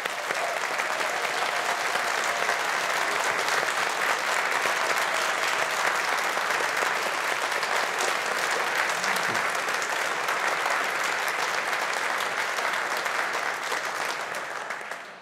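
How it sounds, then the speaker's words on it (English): Sustained applause from a large audience at a university graduation ceremony, steady and loud from start to finish before tapering slightly at the very end. "let's all give our graduates a big round of applause"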